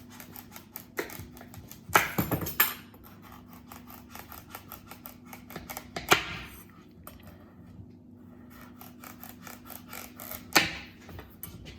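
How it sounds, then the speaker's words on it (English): A knife chopping pumpkin into big pieces on a board, with a few scattered sharp thunks and cuts over quieter handling noises. "we're going to chop up the bits, the pumpkin bits, just into nice big pieces"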